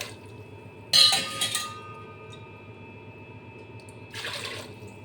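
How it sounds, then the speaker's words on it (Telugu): Two short bursts of water pouring into a pressure cooker, the first at about one second and a softer second one near the end, over a quiet background hum. "ఆ కప్పుతో 2 కప్పుల వాటర్ కూడా యాడ్ చేసుకున్నాం"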